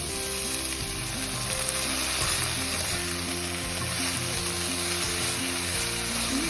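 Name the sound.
garlic, green chilies and drumstick leaves frying in a pan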